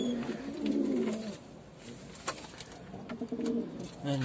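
Pouter pigeons coo in low, soft, repeated rolling calls, fairly faint, from a loft, with occasional small knocks and rustles in the background.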